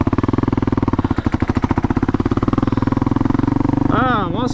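A Honda CRF250L motorcycle engine revs hard and steady in second gear as its rear wheel spins without traction, a loud, close, buzzing drone with rapid pulsing that ends on a wavering rise and fall.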